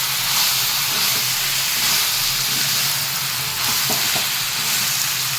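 Brinjal sizzling with chicken keema in a hot pan, a steady close frying hiss with a few sharp stirring scrapes near the end, no talk.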